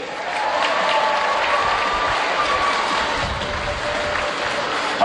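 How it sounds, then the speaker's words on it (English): An audience at a marine park show cheers and applauds loudly and steadily for about five seconds, a dense wash of clapping and shouting with no single voice standing out. "let's have a nice big warm-up cheer for Candu"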